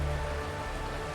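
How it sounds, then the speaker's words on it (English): Steady rain pattering on surfaces in the game Honkai Star Rail, a continuous even hiss with no speech over it. "This is the sound of rain."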